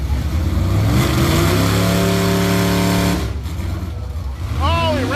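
Drag racing car at the Danchuk Tri-Five Nationals, a Tri-Five Chevy event, revving hard at full throttle with rising harmonic engine tones for about three seconds, then backing off before a brief second rev climbs near the end.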